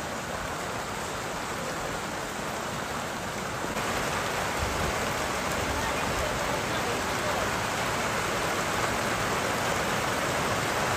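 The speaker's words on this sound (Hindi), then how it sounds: "बहुत ही बारिश हो रही है, भयंकर बारिश हो रही है।" Heavy rain pours steadily as a dense, unbroken roar, growing slightly louder partway through, with gusty wind blended into the wash of noise.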